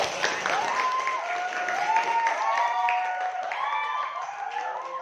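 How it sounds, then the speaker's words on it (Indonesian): Students clap together in a classroom for two groups called forward, a steady spatter of hands held for several seconds with overlapping voices and calls rising over it. "Beri tepuk tangan dulu."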